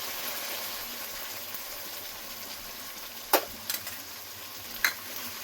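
Soaked spice paste fries in oil in a pan, a faint, even sizzling hiss with a few sharp clinks of a utensil near the end.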